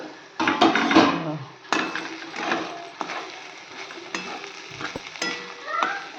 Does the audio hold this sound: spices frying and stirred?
yes